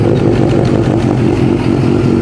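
A 2015 Suzuki GSX-S 1000 with a Yoshimura R11 exhaust runs close by, its engine rumbling loudly and continuously with a throbbing low pulse and no voices.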